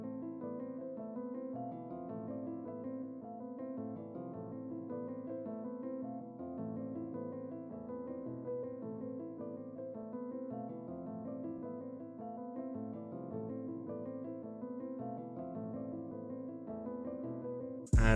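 A guitar-style pattern played on an upright piano preset from Analog Lab 5, pitched down and half-time: a steady, warm keyboard loop of repeating chords and notes running continuously and alone, with a brief burst right at the end.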